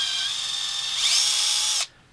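A power drill whines steadily while boring out a hole from 2.5 to 3 millimeters, rising slightly in pitch as it bites, then stops abruptly near the end.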